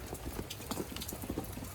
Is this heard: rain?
yes